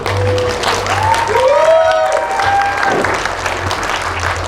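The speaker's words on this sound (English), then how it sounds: "Please applaud for them, everyone" Sustained applause from a festival audience at the Orlando Korea Festival, honoring a couple after their traditional Korean wedding ceremony, with a few whoops and whistles rising over the steady clapping and a low hum beneath.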